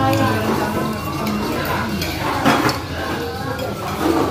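A utensil stirring food in a hot pan at a roadside food stall in Palangka Raya, with repeated scraping and metallic clinks over a steady sizzle. People talk throughout.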